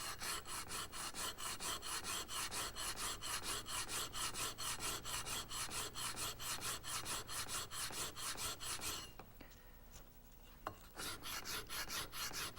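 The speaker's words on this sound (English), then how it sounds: "I'm going to rub until all the marks are coming out." Coarse emery cloth rubbed hard and fast against a hardened brake shoe from a Rolls-Royce Silver Cloud, a steady rasping scrape in quick regular strokes, loud and close, with a short pause near the end before the rubbing resumes.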